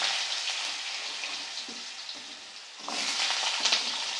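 Cumin seeds and a torn bay leaf crackle in hot oil, a steady close sizzle that surges louder as cut potatoes drop into the pan and keep frying.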